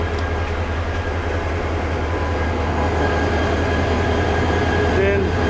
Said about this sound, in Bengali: ট্রেন চলা শুরু করলো।